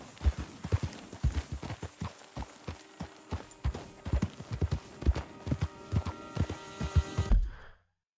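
Horse hooves clip-clop steadily in Red Dead Redemption 2, a brisk, even gait of close, distinct footfalls over a low ambient hum, stopping abruptly near the end.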